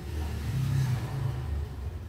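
A vehicle climbing a steep, winding mountain ghat road, its engine rumbling low and revving steadily for a couple of seconds, fairly faint.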